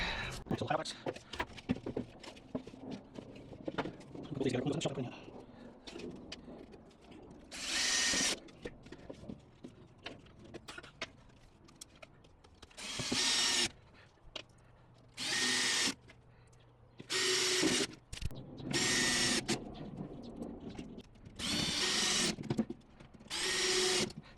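Power drill driving screws into the wood of a patio catio enclosure kit, several separate high whirring bursts of a few seconds each, preceded by a stretch of talk and handling noise.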